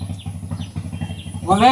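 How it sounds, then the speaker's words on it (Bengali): A low, steady chugging trawler boat engine runs throughout, rhythmic and close, with a voice briefly breaking in at the end. "ট্রলারের শব্দ শোনা যাইব"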